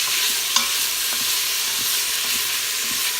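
Red beans and seasoning are stirred and fried in a pan, making a steady, loud sizzle with a few soft scraping knocks from the spoon throughout.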